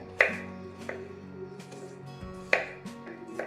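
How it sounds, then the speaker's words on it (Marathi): A knife finely chopping peeled apples for a fruit salad, several crisp, sharp cuts landing at an irregular pace, close and clear with no talking. "मी आता कापून घेते। दोन्ही सफरचंद आपण कापून घेऊ। असे बारीक कापून घ्यायचे छान।"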